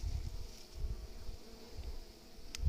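Bees at a beehive being fed hum in a steady, soft buzzing drone, with low rumbling thumps underneath and no voices.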